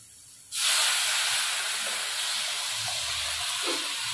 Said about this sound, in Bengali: চলুন, এবার জল দিয়ে দিই।